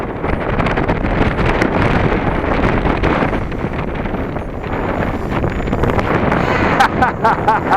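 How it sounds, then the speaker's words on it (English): Strong wind roars and buffets the microphone at a model airplane field where a Timber X is being flown, a loud, steady rushing noise with gusty swells. "I'm going without flaps because it's way windy out here."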